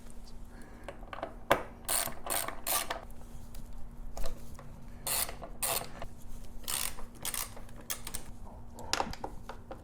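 A hand wrench loosens and removes the rear fender bolts on a 2017 Suzuki SV650 in a garage, giving close ratcheting clicks and metallic clanks in irregular bursts over a low steady hum.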